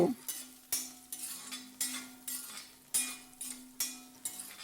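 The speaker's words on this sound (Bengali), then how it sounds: "তারপর আলুটাকে নেড়ে চেড়ে একটু লাল লাল করে ভেজে নেব" Potatoes stirred and fried in a pan, a spoon scraping the metal in steady repeated strokes roughly once a second over a soft continuous sizzle, close and fairly quiet.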